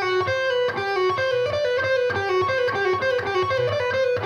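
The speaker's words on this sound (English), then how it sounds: "The device is two adjacent strings where you could bar your first finger and then you're pulling off notes." A fast guitar lick played with pull-offs across two adjacent strings under a barred first finger, a rapid repeating pattern of notes cycling evenly throughout, close and clear with no talking.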